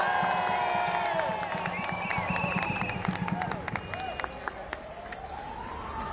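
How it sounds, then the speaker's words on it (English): Crowd cheering and applause at a pro-Palestine street march in London, broad noisy crowd sound at moderate distance with a siren-like wail rising and falling over it and voices mixed in. "Please give a round of applause for Miriam."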